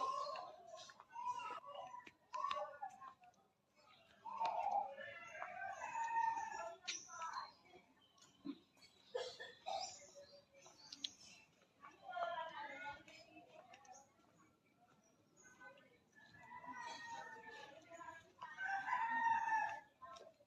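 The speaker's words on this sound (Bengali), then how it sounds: "মোরগে ডাকতেছে" A rooster crows several times in a quiet, deserted rural area on the road to Nohata market in Magura, with other birds calling in between; the crows are fairly close and clear, and no one speaks.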